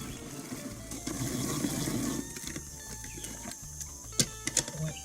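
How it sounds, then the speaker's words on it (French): An electric food chopper whirs in a short burst while mincing tomatoes, onions, and sweet and hot chili peppers, then stops, followed by a few light clicks and knocks. "J'ai mis dans le hachoir tomates, oignons, piment doux et piment fort."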